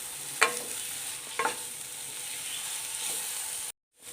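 Onions fry quietly in a pan, a faint steady sizzle with two or three soft stirring scrapes, then the sound cuts out briefly near the end.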